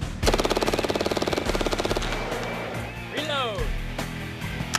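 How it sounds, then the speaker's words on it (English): A MAC-10 submachine gun empties a full magazine in one rapid, loud burst of closely spaced shots, then a short pause and a second sustained burst, with voices and shuffling between the bursts. "this is MAC-10 unloading full magazine, reloading and unloading magazine again"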